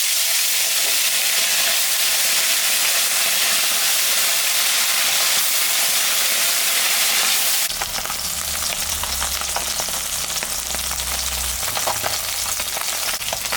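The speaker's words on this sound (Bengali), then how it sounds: "আমি এখন মাছটা ভাজি।" Bata fish fries in hot oil in a home kitchen, a loud, continuous hissing sizzle that shifts partway through to a rougher crackle with a low rumble beneath.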